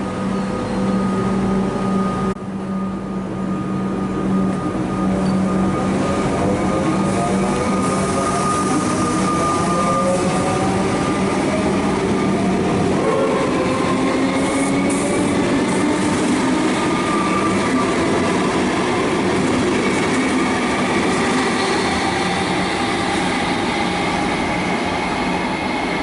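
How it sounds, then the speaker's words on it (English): A Comeng suburban train approaches with a rising rumble, rail squeal and clattering wheels, staying loud and steady throughout in an echoing space. "I can hear a train approaching."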